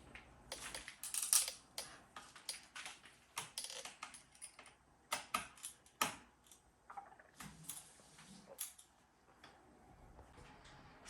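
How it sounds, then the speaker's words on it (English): Small screws being driven back into the underside of a Lenovo Ideapad 330 laptop, a quiet run of irregular clicks and ticks from the screwdriver and parts, close and faint, with no talking. "Now let's put all the screws back."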